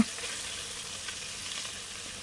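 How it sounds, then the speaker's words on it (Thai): Pre-cut catfish pieces go into a hot pan for a Thai basil stir-fry with dried chilies, giving a loud, steady, broadband sizzle of frying that fills the whole moment without any talk. "เราใส่เนื้อปลาดุกลงไป"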